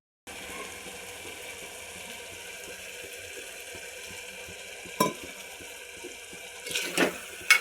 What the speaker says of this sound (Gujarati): તો હવે એની અંદર થોડુંક પાણી એડ કરી દઈશું આપણે